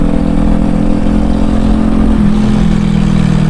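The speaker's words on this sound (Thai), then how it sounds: "ใครว่ารถเก่าซิ่งไม่ได้วะ" An old car revs hard and speeds past, a loud mid-pitched engine roar with a shift in tone partway through, heard close and without talk.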